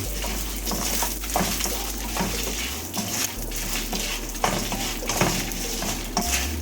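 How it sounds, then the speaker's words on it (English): Dry red chilies and garlic stirred in a pan over a low flame, with a continuous soft scraping and clinking of a spoon against the pan and a steady low hum underneath. "Keep the flame on low and stir."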